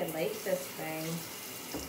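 Tap water runs steadily into a sink while a face is being wetted, the splashing continuing briefly under a voice speaking.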